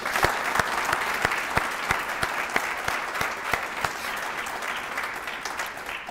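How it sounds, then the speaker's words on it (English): Audience applause at a military retirement ceremony for a NORAD and USNORTHCOM commandant, steady clapping from a medium-sized crowd with a few sharp nearby claps standing out, holding through the whole stretch. "I'd like for you to join me in giving them a round of applause"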